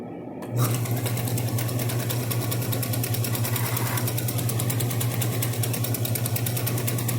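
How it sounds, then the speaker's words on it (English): A wood lathe switches on and runs with a tree stump mounted, settling into a steady, loud motor hum with a fast, even whirring pulse that holds for several seconds. "you're going to turn the lathe on"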